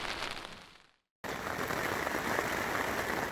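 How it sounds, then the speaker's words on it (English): Heavy rain and strong wind beating on a tent during a multi-day hike on the South Downs Way, a dense steady hiss after a brief silent gap, loud and close with no talking. "this rain has been going on since about 4 o'clock with strong winds"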